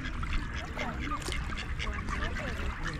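A large swan honks and squawks close by while it is hand-fed on an outing near Berlin, with water, wind and outdoor noise around it.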